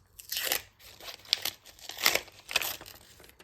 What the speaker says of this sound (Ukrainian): давайте відкриємо пакетик